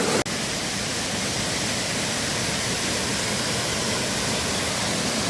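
Mil Cascadas waterfall near Taxco, Guerrero, rushing with a steady, loud broadband roar of falling water that runs unbroken throughout, with a brief knock near the start.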